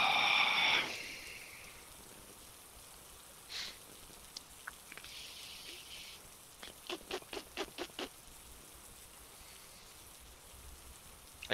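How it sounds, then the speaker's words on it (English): Rain falls as a faint, steady hiss, the weather effect in the Breakaway Football video game, with a few soft taps and brief clicks over it. "I can hear the rain now."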